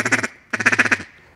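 Rapid, rattling mallard duck feed call blown close and loud, a burst of four quick nasal notes, a pause, then a faster machine-gun run of about six notes.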